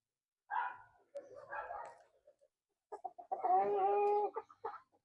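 Lavender Orpington hens and a rooster cluck in short, separate bursts with quiet gaps between them, close and fairly soft, ending in a longer run of calls.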